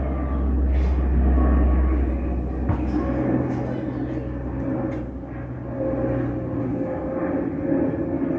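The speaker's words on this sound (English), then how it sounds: "once again Qantas taking off from Sydney to Albury" A Qantas Q300 turboprop airliner takes off from Sydney Airport on a flight to Albury, giving a loud, close engine rumble with a low droning hum that eases slightly, then swells again as it passes overhead.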